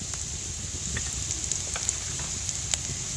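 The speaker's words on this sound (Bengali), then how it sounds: "এবার মশলাটা একটু ভালো করে কষিয়ে নেব।" Ground spice mix of turmeric, chili, coriander and cumin with salt frying in a pan, giving a close, continuous hissing sizzle with a few faint scrape ticks and no voices.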